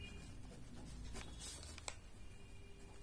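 Faint chalk or marker strokes on a board in a classroom, a few short scratchy marks over a steady room hum, quiet and close, with no talking.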